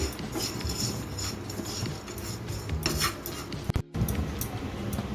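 A spoon scrapes and stirs dry-roasted semolina with sugar and raisins in a pan for suji modak, a steady gritty rasp of metal on pan with light clinks, close and continuous, with no voices.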